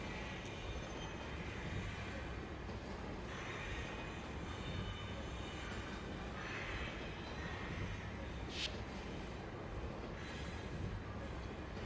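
A train in the video game Lucah: Born of a Dream gives off a faint, continuous rumble with occasional thin wheel squeals, steady throughout and without speech.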